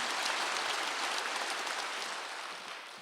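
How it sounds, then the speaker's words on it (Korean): A congregation claps together during a Wednesday church service, a dense steady wash of hands that holds for a few seconds and then slowly tapers off. "박수 하세요."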